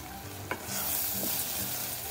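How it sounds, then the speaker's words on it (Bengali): Washed rice being stirred and toasted in a rice cooker with peas for pulao, a soft, even sizzle with a few scraping strokes of a spoon. "চাল দিয়ে আমি 2 মিনিট ভুনে নিচ্ছি"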